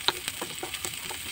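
Onions frying in a large pan, a soft steady sizzle with a few brief stirring clicks, close and fairly quiet.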